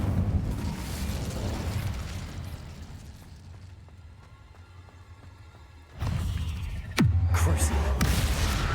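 An Incendio fire spell cast in the Hogwarts Legacy video game. After a quieter stretch of background effects, two sudden, loud fiery bursts whoosh out close together near the end.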